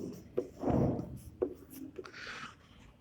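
A pen scratches out a geometry math solution on paper, with short scribbling strokes and taps in an irregular rhythm, close and quiet, with no talk.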